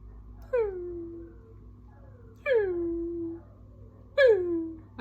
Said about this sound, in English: when I hear the dogs howling outside.